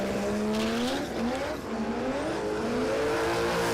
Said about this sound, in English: Just fried the tyres, decided to get out of it.